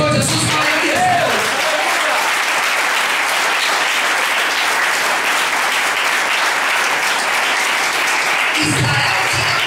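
A church congregation breaks into sustained, loud applause that fills the room at an even level, with a preacher's voice briefly heard at the start and end.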